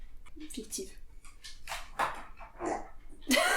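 A dog barks and yips a few times close by in a room, with short sharp calls scattered among people talking over it.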